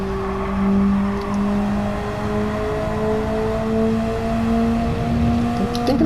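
Car engine in Gran Turismo 7 during a comfort-tire test lap, a steady droning tone that climbs gradually in pitch as it accelerates, loud and continuous with no talk.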